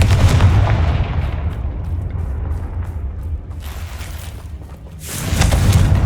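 Deep booming blasts from the Confringo spell in Hogwarts Legacy, a heavy explosion at the start rolling off into rumble, then another loud burst near the end.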